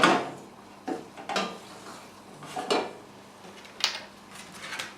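Minced meat browning in a pan for chilli con carne is stirred with a utensil, giving a handful of scattered scraping and clinking knocks against the pan over a quiet, soft sizzle.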